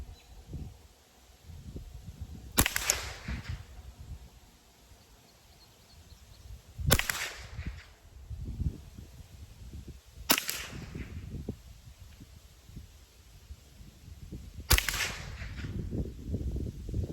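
Five Mini-Mag .22lr rounds fired from a Savage 64 rifle at an outdoor range, each shot a sharp, fairly near crack spaced a few seconds apart over light wind and rustling background.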